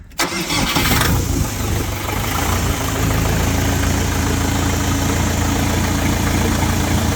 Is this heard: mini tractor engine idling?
yes